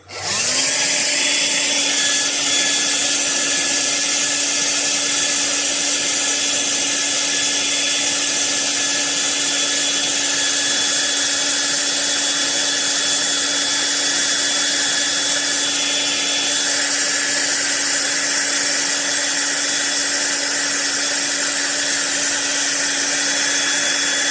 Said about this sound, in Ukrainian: Тепер включаємо фен, починаю нагрівати